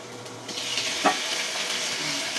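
Kikiam sizzles in hot cooking oil, a close, bright frying hiss that swells and stays steady, with a brief utensil clink midway.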